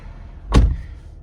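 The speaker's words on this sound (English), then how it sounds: "We'll close the door" A used car at a dealer auction walk-around, 233,000-plus miles, has its door shut once with a single close, solid thud and a brief bright latch click, heard nearby against quiet background noise.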